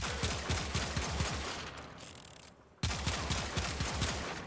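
Vasto revolver from Warframe firing in rapid, evenly spaced shots, loud and close, broken by a brief quieter pause before the volley resumes.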